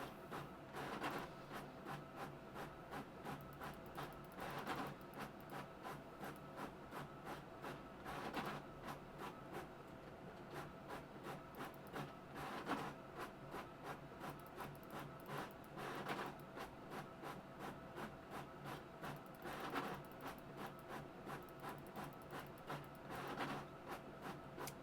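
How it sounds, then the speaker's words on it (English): An inkjet-style printer churns out school documents, its steady mechanical whirring broken by regular louder carriage passes every few seconds, continuous and fairly faint throughout with no talk. "If you can hear the printer going crazy."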